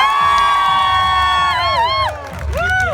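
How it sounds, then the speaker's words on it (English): An audience cheers and whoops loudly for a volunteer at a paranormal stage show, shrill rising and falling shouts over a crowd roar, with a brief dip before the cheering picks up again. "Applause for Bill number 2."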